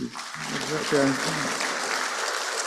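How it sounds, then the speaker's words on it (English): An audience at an anniversary celebration event applauds, a steady wash of clapping heard at moderate distance, with a brief voice near the start. "Can you give a big round of applause to Mark and Dr. Ines?"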